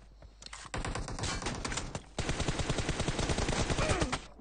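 Rapid automatic gunfire in a multiplayer team deathmatch shooter game rattles in two sustained bursts, loud and dense, with a brief gap before the second, heavier volley.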